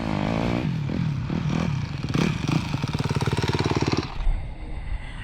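A Chinese dirt bike engine idles and revs nearby, giving off a loud, rough, pulsing clatter. It rises into quick rhythmic firing before cutting back.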